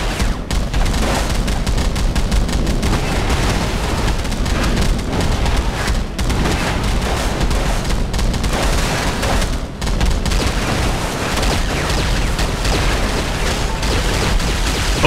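Loud, sustained turret gunfire and booming blasts from the video game Fantastic Four, firing continuously without pause across the whole stretch, with no talk over it.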